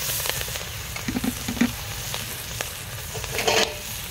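Onions go into oil left over from frying fish and sizzle in a steady, close hiss, broken by a few louder crackles and scraping stirs. No one talks.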